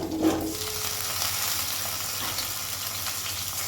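Soft, steady sizzling of diced potatoes and pumpkin frying in a pan, with a brief clink near the start and a low background hum throughout.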